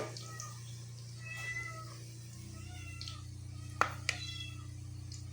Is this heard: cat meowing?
yes